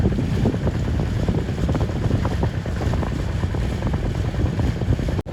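A fishing boat heads out to sea for prawn fishing, its engine a steady loud drone under heavy wind buffeting and water wash that run evenly throughout.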